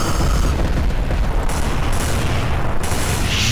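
A bomb detonation in Garry's Mod, a loud, continuous booming blast with a dense rumbling roar filling the whole stretch, close and heavy, with no talking over it.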